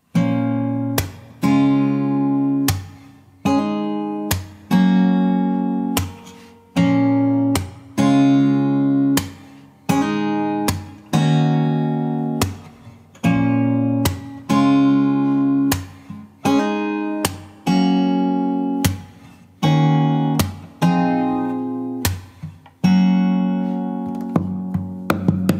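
Fingerpicked acoustic guitar plays a song verse in a steady repeating pattern of ringing chord arpeggios with regular accents, close and alone with no voices.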